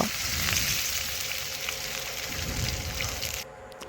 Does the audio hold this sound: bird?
no